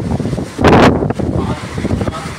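Strong wind gusting hard into the microphone outdoors, with a loud roaring burst in the middle and rumbling buffets before and after, alone without talk.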